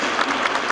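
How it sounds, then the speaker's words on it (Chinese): Brief applause from an audience at a Tainan city shopping festival event, a short burst of dense, steady clapping at moderate loudness. "掌声他应该听得到了哈"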